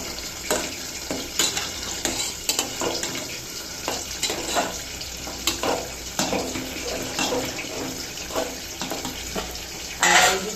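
Papaya sizzles in a pan with a mustard seed tempering for a vegetarian dish, loud crackling frying broken by repeated scraping stirs and clatter, with a sharper burst near the end.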